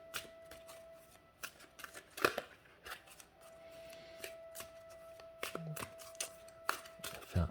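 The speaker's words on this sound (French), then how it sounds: "je vais mélanger donc les cartes" Oracle cards being shuffled by hand, a quiet series of brief papery riffles and taps spread across a calm room, with a couple of sharper card slaps standing out.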